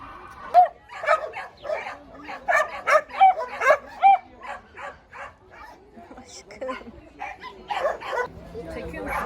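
Several dogs at an animal shelter in Ankara bark and yip in rapid overlapping bursts, close and loud, with whimpers and people talking among them.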